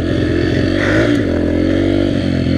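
A Yamaha TTR125 dirt bike engine runs loud and close, holding a steady, throaty note with slight rises in pitch as it revs while being ridden, with no voices.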